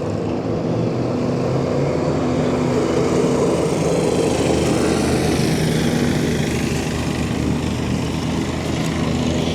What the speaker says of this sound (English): John Deere zero turn